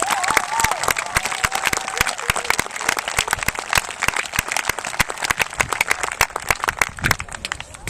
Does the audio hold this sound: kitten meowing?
no